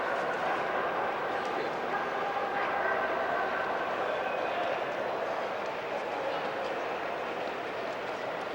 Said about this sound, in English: Back at the train station in Munich now. The train station is called Hauptbahnhof.